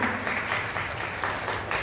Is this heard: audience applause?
yes